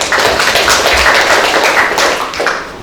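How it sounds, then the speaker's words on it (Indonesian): Students in a classroom clap for a classmate, a short burst of brisk, fairly loud handclaps from a small group lasting under three seconds. "Tepuk tangan buat Rita."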